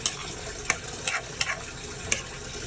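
A spoon stirs melting coconut milk in a frying pan, giving soft scraping strokes and a steady low sizzle, with about five brief clinks and scrapes spaced unevenly over a few seconds, close and fairly quiet, with no voices.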